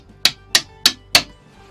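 Four evenly spaced metallic hammer taps ring out close by as a part is knocked through on an engine held on a stand, each strike sharp with a brief decay.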